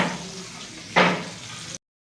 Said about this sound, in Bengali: দেখতে পাচ্ছ আমাদের তেলে ভাজছে